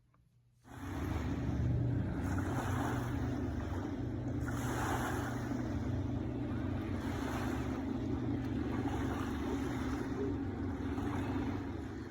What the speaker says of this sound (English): I love to hear the waves. In fact, I'm going to insert a little clip here of the waves.